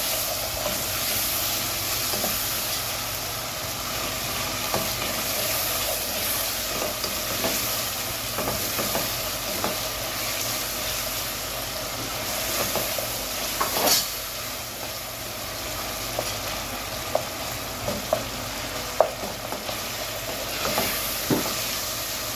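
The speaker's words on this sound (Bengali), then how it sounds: "কাঁচা পেঁয়াজটা একটু ভেজে নেব এটাকে একটু ভেজে নেব" Raw onions frying in a pan for a beef and liver dish, a steady loud sizzle with scattered crackles and occasional stirring scrapes throughout.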